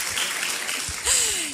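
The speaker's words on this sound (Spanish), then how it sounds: "Un aplauso fuerte a todos" Attendees at a business opportunity meeting in Guadalajara break into loud applause, a short burst of dense clapping, with a sliding electronic tone cutting in near the end.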